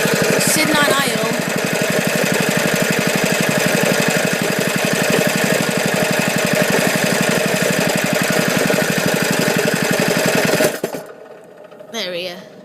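A Liftan 6.5 hp small engine idles with a fast, steady, loud chugging beat that suddenly stops as it runs out of gas, leaving near silence; brief voices are heard over it.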